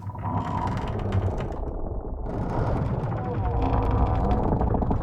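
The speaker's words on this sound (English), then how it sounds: "it's just you and the sound of the creaking ship" Wooden creaks and ratcheting groans repeat irregularly over a low rumble, like timbers straining under load.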